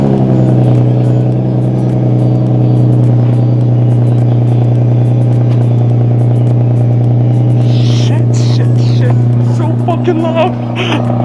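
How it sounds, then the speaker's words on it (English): A bolt-on, tuned Infiniti G37 sedan engine rumbles loudly and steadily at high idle after a cold start, a deep constant drone close by, with brief voices partway through. "here's a cold start of my bolt-on and tuned G37"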